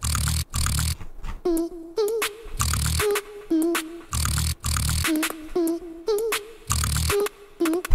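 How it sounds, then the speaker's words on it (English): A beatboxer's voice builds a deep, buzzing nasal bass, punctuated by rapid speed-snare bursts, a loud, close, repeating pattern of humming bass phrases and sharp clicky hits. "Some speed snares are remaining, and with the nasal bass it sounds like this."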